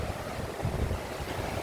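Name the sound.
flowing water of the Kishanganga river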